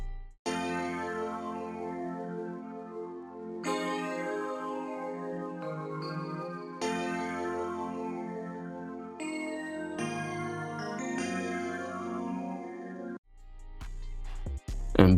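Dark, soulful synth keys from a Triton VST with distortion effects play sustained, layered chords that repeat in a slow looping progression, close and steady, with no talk.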